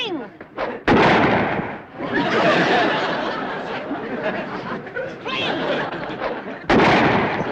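Loud gunshots crack out in a comedic shootout, sharp blasts at the start and near the end amid ongoing noisy commotion.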